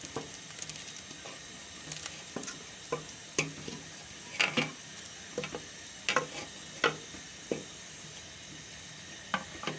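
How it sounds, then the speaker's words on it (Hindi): Masala is stirred into a simmering pot of beef paya yakhni, with a spoon scraping and tapping against the pot in irregular strokes over a soft sizzling bubble. "यखनी में हम अच्छी तरह अपना मसाला मिला देंगे।"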